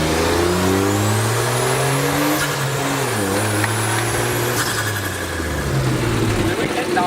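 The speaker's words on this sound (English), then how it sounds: "First gear pull." Straight-piped BMW E36 engine screaming through a first-gear pull, loud and close, with harmonics climbing steadily, dipping briefly at a shift point, then climbing again.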